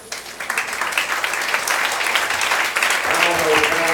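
A church congregation claps together in a steady wash of applause, rising quickly and holding, with voices faintly mixed in beneath.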